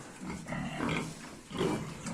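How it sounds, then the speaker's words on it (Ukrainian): Low grunting and snuffling from piglets, a couple of louder bursts close by with a busy barn-like background. "Такі у нас поросятка."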